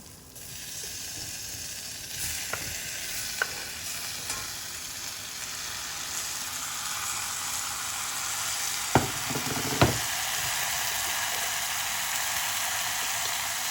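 Thinly sliced tomatoes sizzle steadily in a hot pan for a Salem-style tomato sambar. The loud, even frying runs throughout, with a few sharp stirring clicks near the end and no talking.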